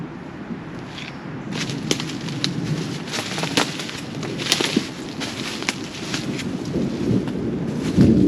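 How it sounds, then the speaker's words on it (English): Thunderstorm building around an abandoned plantation house, with steady wind roar and rain hiss broken by sharp crackling thunder bursts, followed by a deeper rumble building near the end. "I believe the storm is getting closer."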